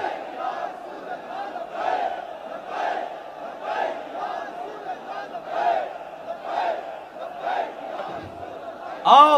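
A large crowd at a religious speech in Jalalpur, Gujrat, chants the slogan Allahu Akbar in unison, repeated in a steady rhythm about once a second, loud and reverberant.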